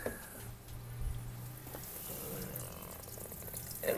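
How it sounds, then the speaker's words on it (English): Water pours and drains out through the pipe beneath a disposable cardboard shower tub in a camper, making a steady, close trickling and splashing that runs the whole time. "it's draining out of the hole. It's coming just straight out of the pipes"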